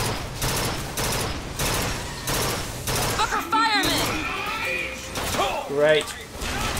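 Rapid bursts of gunfire from the burst gun in the video game Bioshock Infinite, rattling loudly through the first half amid game noise, with a voice speaking briefly over later sound effects.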